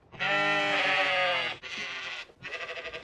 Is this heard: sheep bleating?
yes